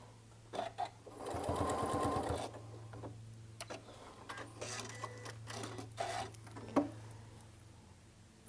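A sewing machine runs in a loud burst of rapid stitching as it reaches a seam and pivots, then stops; scattered handling clicks and fabric rustles follow, close up.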